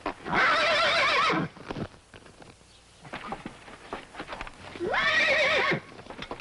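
A wild horse whinnies loudly twice, long shrill neighs separated by a pause filled with soft hoof clops and shuffling.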